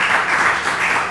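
Steady applause from an audience at an Asheville city council meeting, a dense, even patter of many hands clapping together for just over a second, moderately loud with no voices over it.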